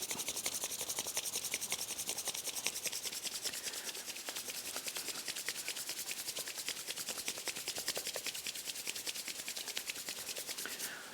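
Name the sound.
hands being rubbed together intensely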